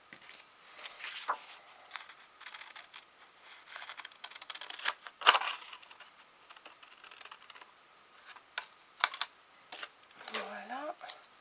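Scissors snip through paper at a craft table in a few brief, crisp cuts spread out between pauses, with soft handling and rustling sounds around them.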